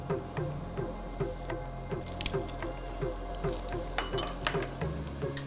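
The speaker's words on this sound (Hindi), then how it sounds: "कैप्सिकम जो मैंने काट के रखी है, ये है लाल और पीली बेल पेपर्स, ये थोड़ी ही डालनी है।" Chopped red and yellow bell peppers are tossed into a frying pan and stirred. Soft sizzling runs under repeated rhythmic scraping and tapping strokes, close and fairly quiet, with no voices.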